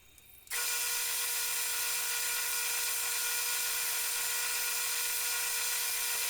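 After a quiet start, a small worn sanding mop in a drill press spins up abruptly into a loud, steady, high-pitched whirring drone that holds unchanged to the end.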